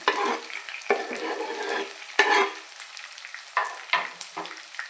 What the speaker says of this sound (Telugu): కరివేపాకు వేసుకున్న తర్వాత కొంచెం వేగిన తర్వాత ఉల్లిపాయలు, పచ్చిమిరపకాయలు వేసుకొని